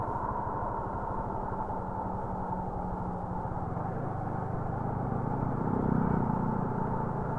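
Motorcycle traffic on a Philippine highway near a road closure, heard from a rider's Yamaha Sniper 155: steady engine drone and road rumble throughout, swelling slightly louder near the end as another motorbike goes by.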